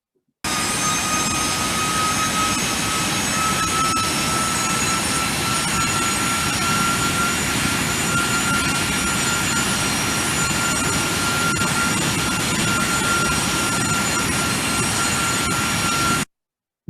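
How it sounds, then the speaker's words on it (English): Steady, loud roar of the jet engines on a Boeing 737-800 in flight as the airliner turns over the Arabian Sea after leaving Mumbai, with a constant high whine running through the broad cabin rumble. "you can see the plane is now turning to 180 heading"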